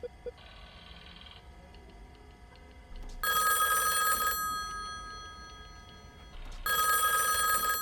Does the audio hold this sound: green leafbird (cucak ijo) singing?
no